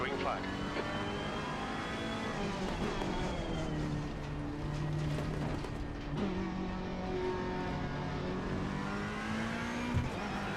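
Ferrari 488 GT3 race car engine in a sim racing game at Brands Hatch, revving loud and steady through upshifts and downshifts with a continuous close-up drone, under faint talk.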